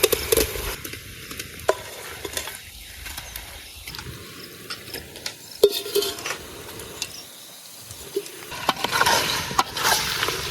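Chicken pieces dropped into a hot pan while cooking outdoors in a village, giving a sizzle with clattering and scraping, plus a few brief hollow tones rising over the frying.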